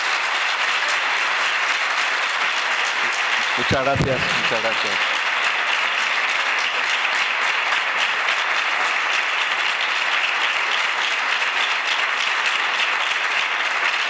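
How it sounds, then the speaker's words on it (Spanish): A seated audience at a talk on artistic creation and cultural management gives a long, steady round of applause, close and full. Someone briefly speaks over it near the start. "El aplauso no me lo puedo llevar"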